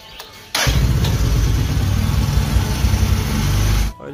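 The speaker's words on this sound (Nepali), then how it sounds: "अब यहाँ बाइक रेडी छ" A motorcycle engine starts abruptly and settles into a loud, steady, close idle, running for several seconds before cutting off near the end, heard alone with no voices.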